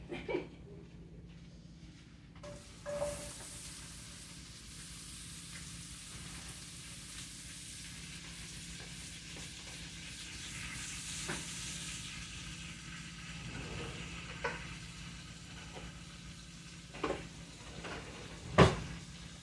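Vegetables for a stir-fry sizzle in a pot after being dropped in, a moderate steady hiss with occasional clanks and knocks, ending in a sharp clatter.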